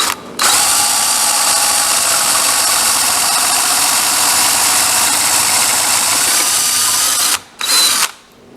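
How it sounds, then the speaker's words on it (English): A drill-driven tenon cutter cuts a 1-inch tenon during a wheelbarrow rebuild: a loud, close, steady high-pitched whir for about seven seconds, then a stop, a brief restart and a stop. "There you can see, in just a matter of seconds, I cut this perfect 1 inch tenon."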